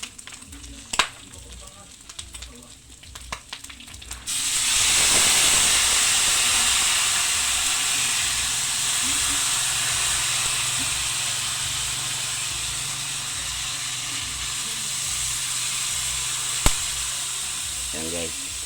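Dried fish sizzles and hisses steadily in a hot pan with vinegar, a loud continuous fry that swells in and holds, with a few clinks and speech faintly before it starts.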